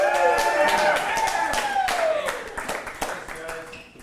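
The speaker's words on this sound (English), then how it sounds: "You guys stopped clapping pretty quick." A comedy club audience claps for a comedian at a show, a dense patter of many hands at close range that thins out and fades toward the end, with a voice rising over it.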